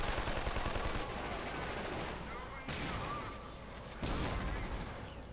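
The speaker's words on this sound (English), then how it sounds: "And make sure you shoot the air bots down," Gunfire from the game Killzone 2 as a player shoots at bots: continuous dense bursts of shots with short breaks, loud and steady throughout, with a voice talking underneath.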